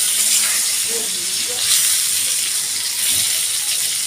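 Pointed gourd (potol) slices frying in hot oil for a yogurt-based dish, giving a steady, close sizzle with faint stirring clinks throughout.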